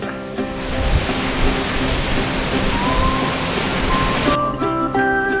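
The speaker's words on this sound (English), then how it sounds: "The waves are picking up." Heavy hurricane surf crashing continuously around a cruise ship on the Mexican Riviera, a broad roaring wash of water with faint tonal hum underneath and no speech.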